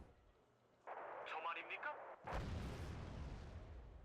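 A deep artillery boom rolls out from a battle in the real-time strategy game Wargame: Red Dragon, a heavy blast that rises sharply and leaves a long rumbling tail after a stretch of mechanical in-game noise.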